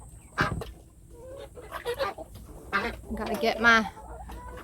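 Hens cluck and murmur inside a dark backyard chicken coop during egg collection. The clucks come in scattered short bursts, and a person talks nearby.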